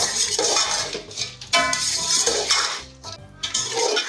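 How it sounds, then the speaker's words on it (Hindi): Yogurt being mixed into chicken biryani masala in a pot: a spoon clinks and scrapes against the metal rim in uneven bursts, close and fairly loud, with no voices. "1 बाउल में इसके दही शामिल करूँगी इसमें और इसे मिक्स कर लूँगी"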